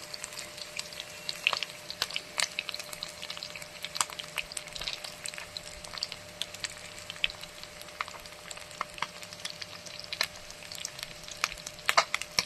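Pabda fish fry in a pan as the pieces are flipped, giving a steady crackling sizzle with sharp pops scattered throughout, close and moderately loud.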